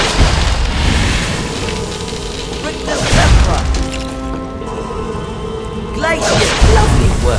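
The Glacius ice spell is cast in the Harry Potter and the Prisoner of Azkaban video game, giving loud whooshing, crackling bursts over a dense game soundscape, with voices talking throughout.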